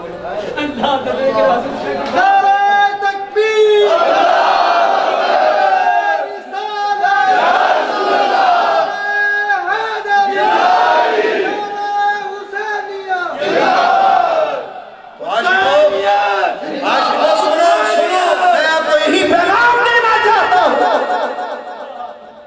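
A large crowd at a political rally chants slogans called from the stage, loud and sustained for about 22 seconds with many voices in unison, briefly dropping off near the start and again around the midpoint before surging back.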